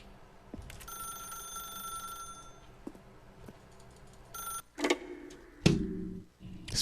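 A telephone in The Stanley Parable: Ultra Deluxe rings in a quiet room, a bright repeating electronic trill in short bursts, followed by heavier clunks and thumps near the end.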